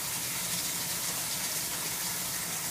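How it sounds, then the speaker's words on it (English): Lukewarm water gushes steadily from a tap into a container being filled to the top, a continuous, even rush of water close by with no pauses. "I'm just filling it up all the way up to the top with lukewarm water."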